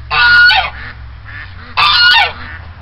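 Two loud, harsh goose honks ring out close by, separated by a short pause, with quieter low rumbling between them.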